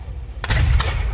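WWII weapons fire at a Bournemouth tank fest battle display, with two sharp, loud thudding bangs in quick succession over a low rumble.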